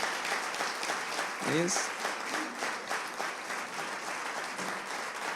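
A church congregation at a Sunday celebration service applauds to welcome a visiting pastor, soft steady clapping heard at a distance, with a brief spoken phrase over it.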